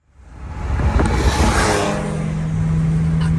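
A turbocharged Nissan Z32 300ZX engine rises into a loud, sustained roar and then holds a steady drone, heard up close with no talking.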